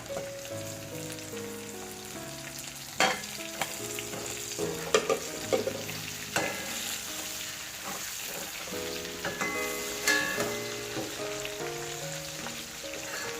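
Chicken fries steadily in a pan, a continuous crackling sizzle like rain on a surface, with occasional clatters and scrapes of stirring and a tonal melody playing faintly underneath.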